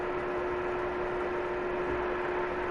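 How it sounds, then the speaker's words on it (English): Mechanical fan running steadily in a room, a constant broadband whoosh with a faint tonal hum underneath, unchanging throughout and with no talking. "sorry about the fan in the background"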